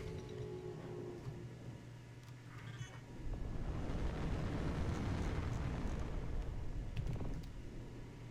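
Spaceship weapons in Star Citizen fire in a sustained roaring burst, dense rumbling and crackling that swells from about the middle and holds steady to the end, loud and without speech over it.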